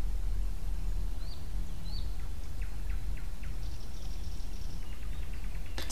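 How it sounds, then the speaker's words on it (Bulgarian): Forest birds singing in a meadow, a few short chirps and whistled calls scattered over a steady background hiss, fairly faint and with no one talking. "Птичките пеят наоколо"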